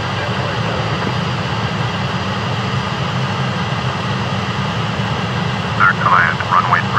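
An Airbus A330 lands at Toulouse Blagnac in Flight Simulator X, its jet engines a steady broad roar throughout, with radio-style voices talking over the engine noise.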